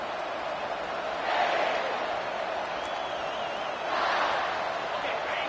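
A football stadium crowd at a college game roars in two swelling waves of cheering over a constant dense murmur, with no clear voices standing out.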